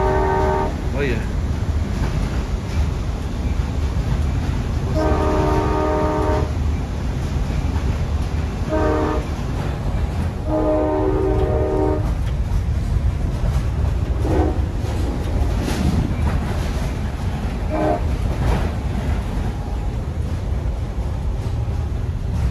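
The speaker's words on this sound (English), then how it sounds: "let me hear the horn from 6963" An Amtrak San Joaquin cab car, number 6963, sounds its multi-chime train horn in several loud blasts, short and long, heard from onboard over constant rumbling rail noise.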